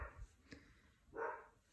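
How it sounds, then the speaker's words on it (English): Dogs bark in a few short, fairly faint bursts at the start, middle and again later, with quiet pauses between them. "excuse the dogs barking"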